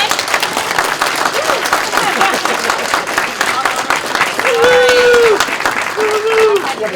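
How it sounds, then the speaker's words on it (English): Sustained applause from a convention crowd at a horror fan event, dense steady clapping throughout, with a few whistles rising near the end. "Round of applause for Teri."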